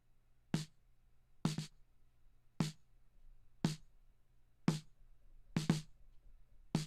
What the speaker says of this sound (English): Without any processing, the snare sounds like this.